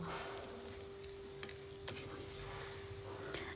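A milk mixture is stirred in a cooking pan, soft scraping and sloshing strokes with a faint sizzle underneath and a steady background hum, quiet and without talk.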